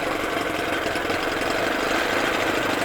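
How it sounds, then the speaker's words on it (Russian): A Johnson 9 outboard boat motor running after an impeller replacement, a steady, rapid two-stroke putter close by, even in level and rhythm throughout, with no voices. "И вот так мотор работает."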